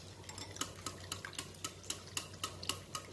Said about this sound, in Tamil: நல்லா பீட் பண்ணிக்கிடுங்க